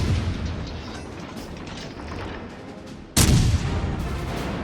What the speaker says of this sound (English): You're just shooting at battleships,